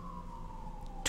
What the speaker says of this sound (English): sirens go up and down